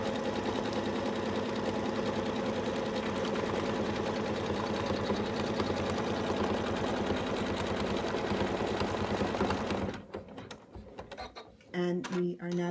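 An embroidery machine runs steadily at close range, rapidly stitching a Santa bib with a fast, even mechanical chatter. The hum stops near the end, followed by a few brief clicks and mechanism noises.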